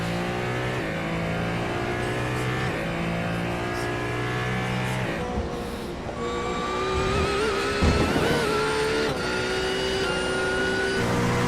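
Racing cars in a video game of the 24 Hours of Daytona, including a Ferrari, with engines revving and whining through gear changes, one car passing close and loud midway, and a continuous layered drone of several motors.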